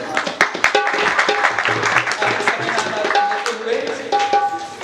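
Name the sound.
audience applause at Valmiki birthday celebration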